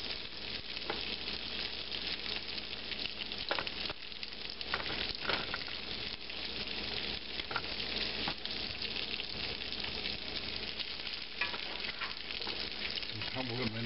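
Cut potatoes fry in hot bacon grease, giving a steady, close, continuous sizzle and crackle with occasional soft pops and stirring scrapes throughout.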